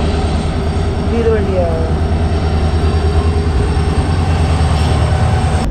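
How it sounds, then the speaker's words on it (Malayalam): The Mandovi Express pulling into a Konkan Railway station, a loud continuous rumble of rolling carriages with brief wheel squeals early on, heard close by from a waiting train, with a voice speaking over it. "ഇത് മണ്ടോവി എക്സ്പ്രസ് എന്ന എക്സ്പ്രസ് ആണ് വന്ന് കിടക്കുന്നത്."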